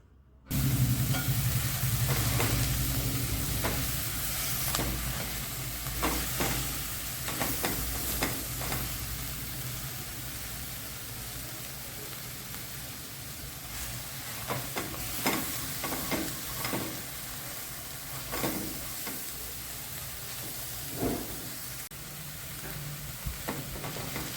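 Methi thecha, a fenugreek chutney, sautés in a pan with a steady, close sizzle and frying hiss, broken by repeated scraping stirs throughout.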